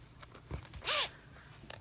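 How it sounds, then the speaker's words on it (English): Double zippers on a sewn fabric pouch are pulled closed in one quick, close rasping zip, with a few soft handling taps and clicks of the fabric before and after. "I have my two zippers evenly together and evenly together. So if I close,"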